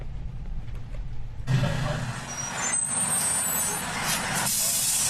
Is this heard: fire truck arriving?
yes